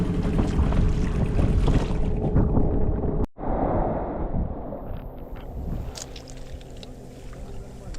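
Speedboat running at high speed toward a sandy shore past submerged hazards, a loud broadband engine and hull roar with wind and water rush, briefly cut off then continuing steadily.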